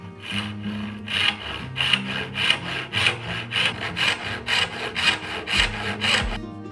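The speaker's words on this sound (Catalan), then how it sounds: "col·locar exactament el xerrac allà on el vull posar i començo a fer un tall" Hand saw cutting a wooden piece for a box joint, rhythmic back-and-forth rasping strokes, about a dozen evenly spaced, close and clear with no talk.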